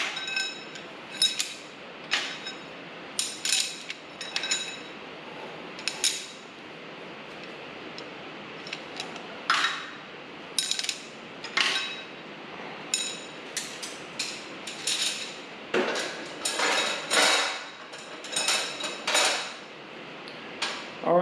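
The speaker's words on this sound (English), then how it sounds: "we're gonna go ahead and pull the push rods out, put those in the valve cover." Metal push rods pulled one by one from a 1946 Farmall M tractor engine during disassembly, giving scattered close clinks and ticks in irregular bursts with no talking.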